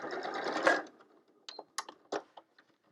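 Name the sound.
sewing machine stitching while quilting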